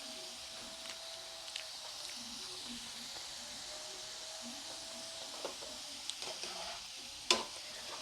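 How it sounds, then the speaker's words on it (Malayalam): Food crackling and sizzling steadily in a frying pan, a faint continuous hiss with small pops and occasional louder clicks of stirring, heard alone without talk. "ഞാനതൊന്നും കൂടി വറക്കുന്നുണ്ട് കേട്ടോ."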